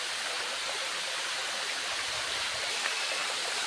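A waterfall at Busay Falls in Lugait, Misamis Oriental, roars with a steady, dense rush of falling and flowing water that fills the scene without a break.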